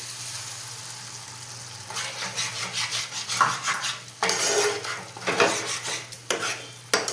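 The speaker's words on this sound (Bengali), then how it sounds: "এবার আমি যে বেটে রেখেছি সর্ষে পোস্ত আর কাঁচা লঙ্কা, ওইটা দিয়ে দেবো" Mustard-poppy seed paste and green chilli going into a pan of pabda fish curry and stirred in, with close scraping and clinking of a utensil against the pan over a soft sizzle, in bursts after a quieter start.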